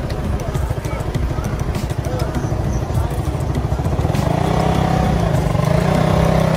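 Motorbikes and other traffic move through a narrow, busy Bangkok market street, a steady loud engine rumble with passing revs and crowd noise throughout, no clear talk.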